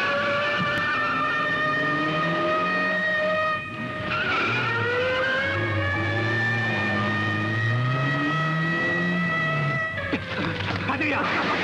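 A car tears away during a chase in a 1975 Italian crime film, its engine climbing and falling in pitch with tyre skids, while voices shout over the roar.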